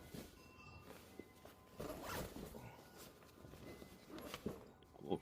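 Zippers on a Tesla pet liner storage bag being pulled open, a close, quiet rasping run repeated a few times with light handling rustle.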